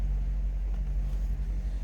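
A 1950 Buick Super Riviera engine running steadily with a deep, loud low rumble throughout, no voices present.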